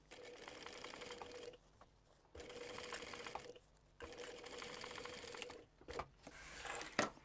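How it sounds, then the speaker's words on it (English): A sewing machine stitches along the edge of a fabric bag in three steady whirring runs with short pauses between, its needle mechanism chattering rhythmically, followed by brief clicks and adjustments. "So now we just want to sew along there on the very edge of that row, making sure we're catching both seams."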